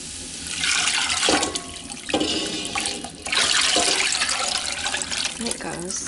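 Chicken broth poured into a cooking pot for a Thai soup, a steady splashing liquid stream that runs throughout with a couple of brief dips, close and fairly loud.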